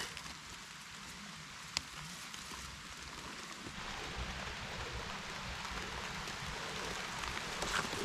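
Steady rain patters on surfaces, a soft continuous hiss that thickens slightly partway through, with one brief knock early on.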